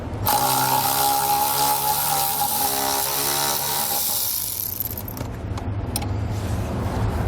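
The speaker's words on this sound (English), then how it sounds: "This is going to use an 8mm socket. We can go ahead and take those off now." A steady mechanical whir runs throughout as an 8mm socket on a ratchet or driver removes screws from a bracket on a 2020 Jeep Gladiator, with no one speaking.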